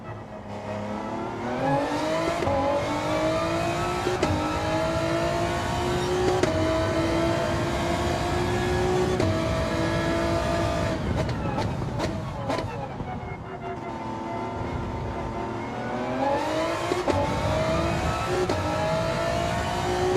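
A race car engine on soft tyres in a racing video game revs at a sustained high pitch, climbing and dropping through gear changes, loud and continuous throughout.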